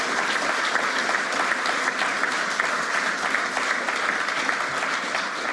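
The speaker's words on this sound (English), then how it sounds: "Let's give them a round of applause to Bosch Australia." Steady, dense clapping from a large crowd at an awards ceremony, continuous and even throughout, with no pauses or voices standing out.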